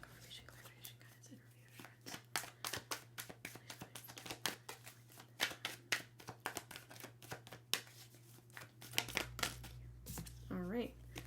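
A deck of tarot cards is shuffled by hand in quick, close, soft riffling flicks that repeat unevenly, with a brief voice near the end.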